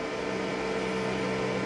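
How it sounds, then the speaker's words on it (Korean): The motor of a Nest air cooler hums with a steady buzzing vibration close by, unchanging throughout, with no voices. "진동 소리가 꽤 심해요"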